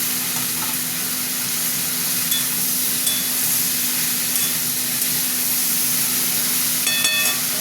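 Tomato drops into a pan of frying okra curry, which gives a loud, continuous close sizzle with a steady hiss and a few sharp metallic clinks near the end, with no talking.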